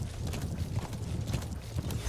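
Hooves of D-Horse clip-clop at a walk in Metal Gear Solid V, a soft, fairly quick steady series of close hoofbeats with no other sound.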